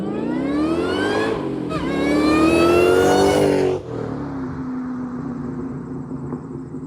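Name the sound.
Terminator Cobra car engine revving with Borla exhaust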